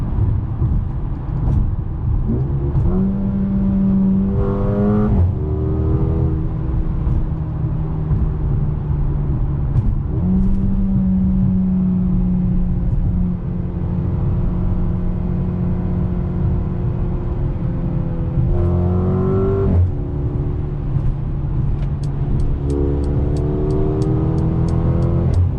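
Heard from the cabin, a 2021 Mercedes-Benz GLA 35 SUV engine accelerates through several gears, its pitch rising and then dropping at each shift, with a steady low drone filling the gaps between pulls.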